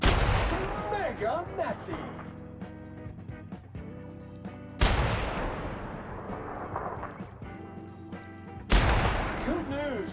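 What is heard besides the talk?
gunfire in The Outer Worlds video game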